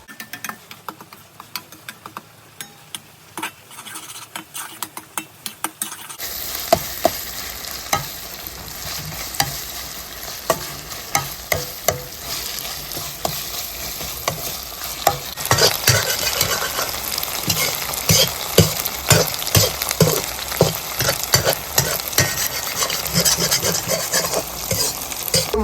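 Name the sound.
stirring Coca-Cola egg fried rice in a frying pan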